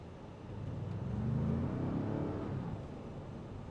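A 2025 Ford Expedition engine with a low growl as it revs, a muffled rumble that rises and falls once, heard from inside the cabin at moderate volume.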